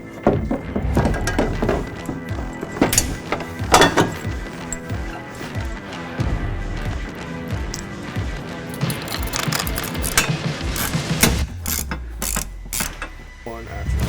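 A ratchet wrench tightens a fuel tank strap bolt into a cage nut while a replacement 62-gallon fuel tank is installed on a GM Duramax 6.6L truck, giving close, repeated clicking ratchet strokes mixed with metallic clunks and knocks.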